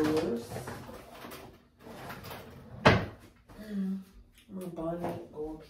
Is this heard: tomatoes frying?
no